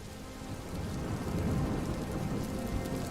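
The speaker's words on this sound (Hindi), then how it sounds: "हो, बहुत पानी गिर रहा है।" Heavy rain pours down in a storm outdoors, a dense, steady hiss of falling water with low rumbling beneath that swells slightly and then holds, heard with no voices.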